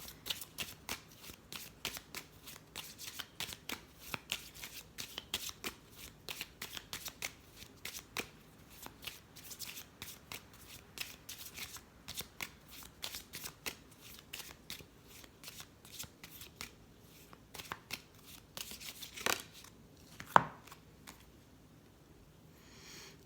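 Moon oracle cards are shuffled by hand in a steady, rapid run of crisp riffles and slaps that lasts about twenty seconds, close up and with no talk.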